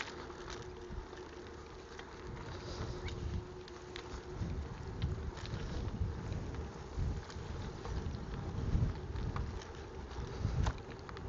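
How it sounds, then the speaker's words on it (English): Steady wind rushing past a cyclist on a sunny ride through Japan, a continuous low buffeting roar against the microphone with no talk. "The wind is nice."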